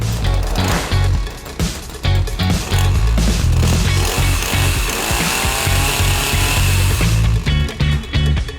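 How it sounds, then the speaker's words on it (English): A Ryobi chainsaw roars loudly and continuously, its engine buzzing and surging with a few revs and dips, close by. "The chainsaw should start right away."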